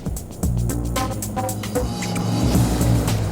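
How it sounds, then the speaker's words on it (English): Rally car at the 2015 Fujairah Rally, driving on the final stage, its engine note rising and shifting through gears in a steady, loud drone without any speech. "The penultimate car to start the final stage, Michel Sala, had dropped time earlier on"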